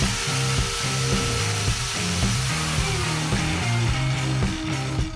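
Stanley SG7100 angle grinder running free, a loud continuous motor whine with a steady high hum and slight pulsing underneath, close and alone without talk.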